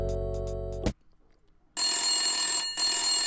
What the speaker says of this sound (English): There it is, phone ring.